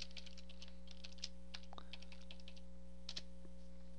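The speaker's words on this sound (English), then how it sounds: "now I have to enter the password for Benji." Password being typed on a computer keyboard, a run of quiet irregular key clicks, faint and close, over a steady electrical hum.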